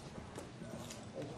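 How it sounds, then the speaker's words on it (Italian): Horse hooves clop faintly and quickly in a brief, muffled burst, nearly buried under a steady musical background. "è un cavallo"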